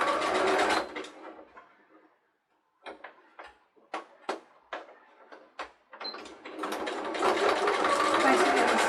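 Sewing machine stitching a flat-bottomed zippered pouch: a quick run of needle strokes, then a pause and a series of sharp clicks as the presser foot is lifted and adjusted, before the motor runs steadily again, close and clear.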